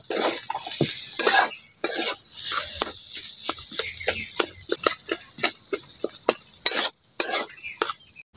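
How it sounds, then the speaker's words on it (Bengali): Potato filling for a vegetarian bread snack frying in a pan, with a utensil stirring and clattering against the metal in rapid, repeated scrapes and taps over a bright sizzle, close and fairly loud. "নাড়াচাড়া করে আলুটাকে একটু ভালো করে ভেজে নেব।"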